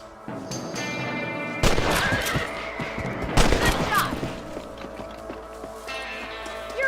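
Rapid volleys of gunfire aimed at rabbits on a ranch in Red Dead Redemption, two dense loud bursts of cracking shots with a fainter stretch between, game music underneath.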